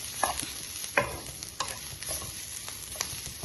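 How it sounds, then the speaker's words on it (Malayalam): Grated coconut roasts in a hot pan, a soft steady sizzle broken by several sharp scraping stirs of a spatula against the pan. "തേങ്ങ വറുത്തെടുക്കും ഒരു പാൻ അടുപ്പിൽ വെച്ച് ചൂടായി കഴിയുമ്പോൾ അതിൻ്റെ അതോട്ട് നമുക്ക് തേങ്ങ ഇടാം"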